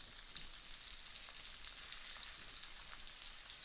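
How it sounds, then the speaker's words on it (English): Prawns for crunchy Sichuan salt and pepper prawns frying in hot oil give a steady, soft, fine-grained sizzle with no voices over it. "So now I'm going to put the prawn into the hot oil."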